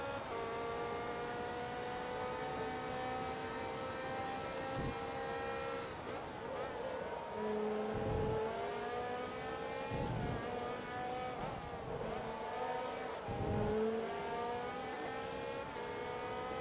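A BMW race car engine in Forza Motorsport 2 drones at high revs around the track, with its pitch dipping sharply at each gear shift before climbing again, steady and prominent throughout.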